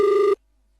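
A single telephone ring tone sounds during an All India Radio folk-song phone-in broadcast, a steady two-tone ring lasting about a third of a second and then stopping abruptly into silence.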